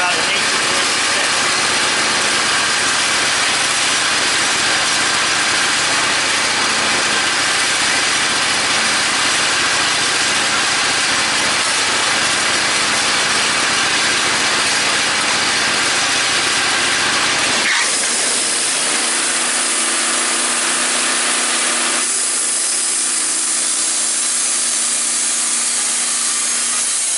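A Woodmizer LT15 sawmill cuts thin wood shingles with a loud, steady roar of engine and blade throughout, then the sound shifts abruptly near the end as the cut finishes and the machine runs on more quietly.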